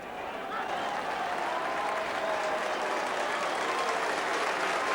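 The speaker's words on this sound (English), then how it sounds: "that applause for Tommy Lennon rings around the stadium" Stadium crowd at a 1988 Mayo v Roscommon Gaelic football final applauding Tommy Lennon, a broad wash of distant clapping that swells in at the start and holds steady.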